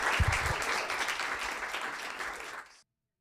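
An audience at a C-SPAN After Words author event bursts into dense, moderately loud applause that carries steadily for under three seconds before cutting off.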